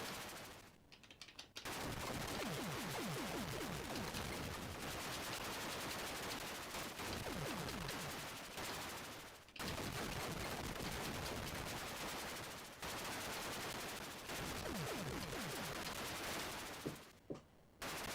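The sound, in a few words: shooting bullets in an Atari 8-bit video game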